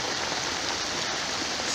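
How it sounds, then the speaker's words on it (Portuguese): Heavy rain pours down steadily outdoors in Zango 3B, Angola, a dense, even hiss of falling water that stays loud and unbroken throughout, with no voices. "Estamos dentro de uma chuva."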